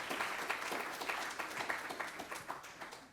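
An audience at an international social sciences conference applauds, a dense, steady patter of many hands clapping that is moderately distant and gradually tapering off.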